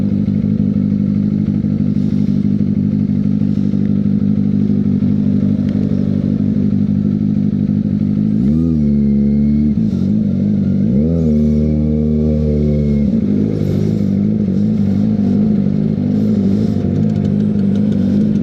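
A 1995–96 Vespa Excel scooter engine runs steadily and loud up close, with two sharp revs swelling and falling in the middle before it settles back to a rough idle.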